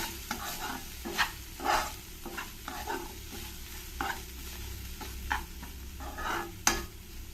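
Ridge gourd and dal mixture stirred in a hot pan with the stove off, giving repeated scraping stirs with a soft sizzle beneath, close and moderately loud, no talking.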